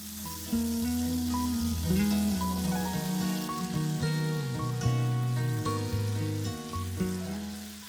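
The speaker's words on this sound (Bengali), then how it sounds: "কুলগুলোকে চার পাঁচ মিনিট তেলের মধ্যে ভালো করে ভেজে নেব" Steady frying sizzle of soaked jujube berries in hot oil with spices, with music playing loudly over it throughout.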